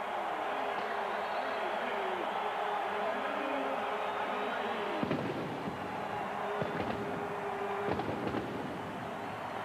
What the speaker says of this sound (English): The fireworks are on.